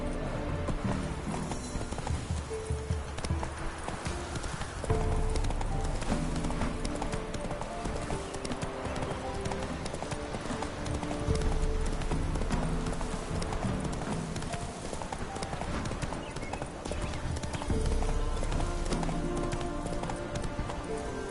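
Continuous galloping hoofbeats of a horse in The Witcher 3: Wild Hunt, a loud, steady clip-clop rhythm with occasional whinnies, layered over game music and ambience throughout.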